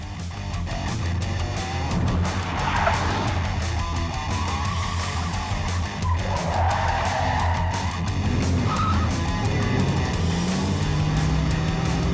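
A car is driven hard during a driving training exercise, its engine droning steadily while tires squeal and skid repeatedly across the run, loud and close throughout.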